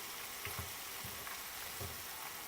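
Onion and potatoes fry in plenty of oil with a steady, dense sizzle and faint stirring taps, close up and quiet, with no talking.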